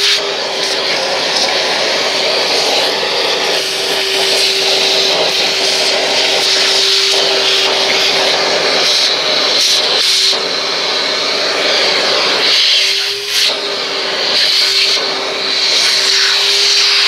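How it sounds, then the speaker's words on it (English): A vacuum cleaner sucks debris out of the filter area of a 2019 Wright 36i stander mower, a loud continuous whine with a steady hum and airy rush, its pitch dipping briefly as the nozzle shifts. "And just vacuum it out a little bit."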